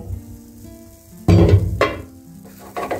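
Pumpkin khagineh, a soft Persian omelette, sizzles in a covered pan, a low steady fry broken by a few sharp bursts of crackling and clattering as the lid or pan is handled; no one speaks.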